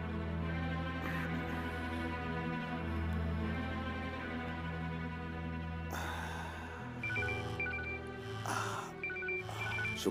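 A phone rings in repeated electronic bursts, fairly close, over a steady background hum, with the ring pattern sharpening toward the end.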